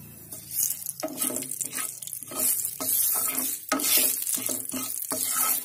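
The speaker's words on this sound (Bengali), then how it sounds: "এবার আমরা মেথিটাকে খুব সুন্দর করে একটু নেড়ে নেব" Fenugreek seeds fry in hot oil while being stirred, with rhythmic spatula scrapes against the pan in bursts about every second over a bright, close sizzle.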